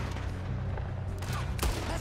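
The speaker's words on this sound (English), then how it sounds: "there's someone shooting down the corridor at us" Gunfire echoing down a train corridor during a train heist in Red Dead Redemption 2, a steady rattle of shots under a rumbling game background, with one louder close blast near the end.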